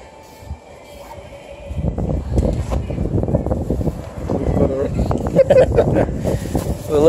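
Wind buffeting a microphone outdoors on a briskly cold day, a loud rumbling low roar that swells and gusts steadily, with voices talking over it.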